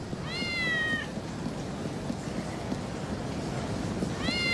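A cat meows twice in the PSP video game Kurohyō: Ryū ga Gotoku Shinshō, one short mew near the start and another at the end, over a steady bed of game ambience.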